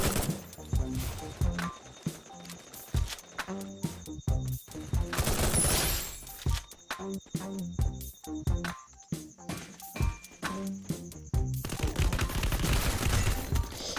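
Gunfire in Free Fire, bursts of rapid shots and single cracks spread through the stretch with short quiet gaps between volleys, loud and close.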